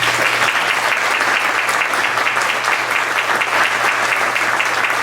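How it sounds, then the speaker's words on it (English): A round of applause for candidates at a Door County sheriff candidate forum, dense and steady crowd clapping filling the room at full volume without a break, no voices on top. "Please join me now in a round of applause for all the candidates."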